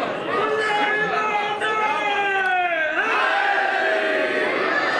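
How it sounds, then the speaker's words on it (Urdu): A large crowd at a religious gathering shouts slogans in unison, loud rising and falling voices close by, with one leading voice sliding into the collective chant. "مجمع بڑا ہے، نعرے کی آواز اتنی نہیں ہے"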